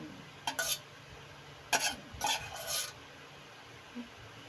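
Onion and garlic stirred into a pork chop marinade in a bowl, several short wet scraping strokes in quick bursts, fairly close and clear with no talking over them.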